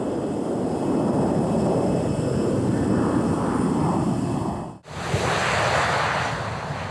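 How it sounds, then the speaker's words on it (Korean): A jet roars loudly and steadily at Gimpo International Airport, its broad rumble briefly cutting out before resuming just as strong. "김포국제공항의 하늘은 온종일 들고 나는 비행기로 뜨겁습니다."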